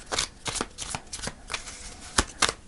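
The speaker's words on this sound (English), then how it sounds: "So I'm going to pull a final card. Let's pull some final cards and see what we get." A deck of tarot cards is shuffled close by, producing a steady run of papery riffling flutters with a few sharper snaps.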